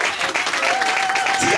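A church congregation applauding in worship, a dense, steady wash of many hands clapping close by and without pause, with a faint sustained tone running underneath.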